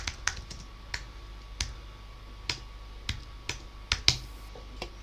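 A computer keyboard is typed on in a quiet room, a handful of crisp, separate key clicks arriving irregularly, close and moderately loud.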